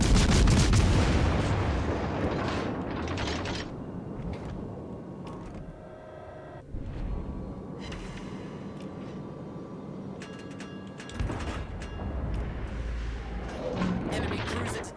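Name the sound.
naval gunfire from the video game World of Warships: Legends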